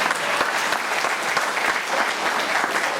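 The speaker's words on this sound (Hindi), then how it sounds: "आप ताली बजाओ" Audience at a Nashik gathering claps in a dense, lively burst of many hands, loud and close, with individual sharp claps poking out of the steady patter for about three seconds.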